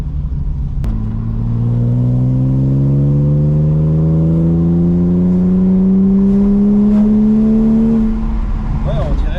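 A BMW E30 320i engine accelerating, its exhaust note rising steadily through the silencer in one long pull, loud and close, with a deep rumbling drone climbing in pitch for several seconds.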